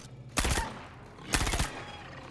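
Two short bursts of rapid gunfire from a weapon in the space game Star Citizen, each lasting about a quarter second, loud and close over a low steady background hum, with a quiet gap between them.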